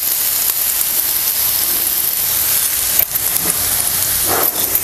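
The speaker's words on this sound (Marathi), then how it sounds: "थोडंसं लालसर करून घेऊया कांदा." Chopped onion frying in a pan for egg masala gives a steady, broad sizzling hiss that runs continuously and close up, without speech.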